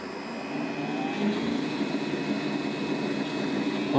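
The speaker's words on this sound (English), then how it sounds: "First thing you have to do is get the AC motor and the generator up to speed." Leonard set of an AC motor driving a DC generator, spinning up to speed for a crane controller test, a steady close mechanical whir with a faint high whine that swells slightly.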